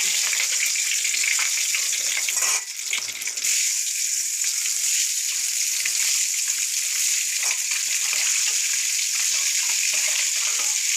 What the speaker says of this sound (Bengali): এবার একটা করে তেলের মধ্যে ছেড়ে দেবো ডিম, ভালো করে ভেজে নেবো